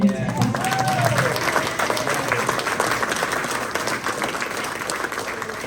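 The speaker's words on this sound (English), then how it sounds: "can we give a round of applause to Robert for kicking cancer in his butt?" Audience applause fills a room at a Rotary club award event, loud and steady throughout with a dense crowd clapping texture and some voices mixed in.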